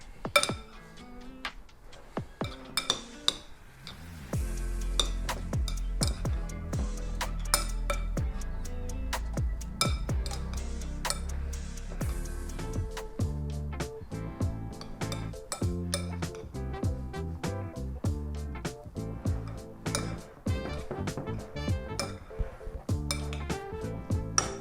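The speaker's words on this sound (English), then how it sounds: "And we mix everything together." Tabouleh salad ingredients tossed together in a bowl, with utensils clinking and scraping against the dish in a busy, continuous clatter that runs close and fairly loud throughout, with no talking.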